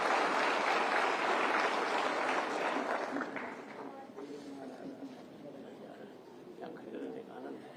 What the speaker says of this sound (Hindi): कृपया जोरदार तालियों के साथ इस शुभ पल का भी आगमन करें